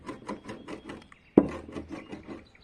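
A mezzaluna knife coarsely chopping fresh nettles on a wooden board for a tartare, with about a dozen steady rhythmic blade strikes, close and fairly quiet, and one louder thump midway.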